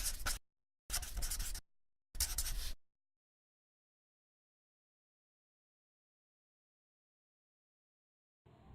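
Pen or marker writing out an equation for solving a linear system, three short bursts of scratchy strokes close by in the first three seconds, then long silence with a faint brief sound at the end.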